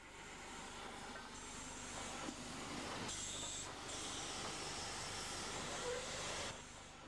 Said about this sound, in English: locomotives moved off towards the station and surrounding yards